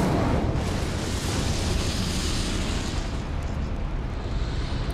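A fire spell explosion in the video game Hogwarts Legacy erupts as a loud, dense burst that roars for a few seconds and then gradually thins out, with no talk over it.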